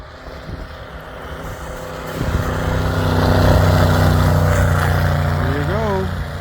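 Engine of a 1974 Bombardier wide-gauge machine with a 318 four-barrel running close by, with a steady droning rumble that swells in a rising rev midway, and a brief pitched whine near the end.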